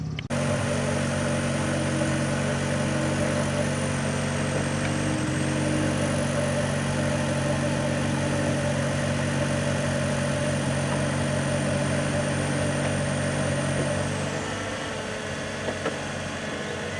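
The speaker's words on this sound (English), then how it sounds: "let's go ahead and put the convertible top up" A 2016 Buick Cascada Premium convertible's power top raising, a steady whirring motor drone running about fourteen seconds with a high whine, then easing off as the mechanism completes.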